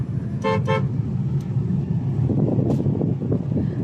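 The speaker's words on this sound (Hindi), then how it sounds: "घर में सर जी गाड़ी चला रहे हैं" A car moves along a road in a hill valley setting with a steady engine and road rumble, close and continuous, while two quick horn toots sound early on and no one speaks.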